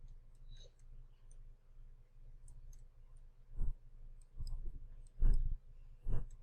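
Sparse mouse clicks while serving customers in a restaurant video game, a few soft scattered clicks early, then several louder, sharper clicks spaced about a second apart near the end over a low steady hum.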